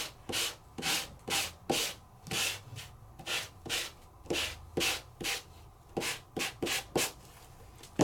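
A die-cut paper piece is sanded in steady, rhythmic back-and-forth strokes, about two per second. The scratchy rubbing is close and clear, with no voices.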